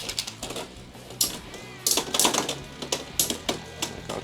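Beyblade X spinning tops clash in a plastic stadium, with a string of sharp, close clicking and clacking impacts over a faint whirring, the hits landing in irregular bursts.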